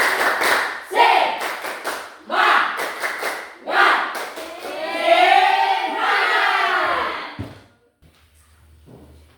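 A classroom of students does a rhythmic spirit clap, with bursts of patterned group clapping alternating with shouted chants and voices, ending in a long cheer that cuts off to near silence.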